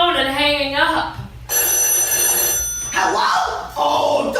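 Electronic telephone bell ringing in a film scene, a sustained bright ring that cuts in between stretches of dialogue, with voices talking before and after it.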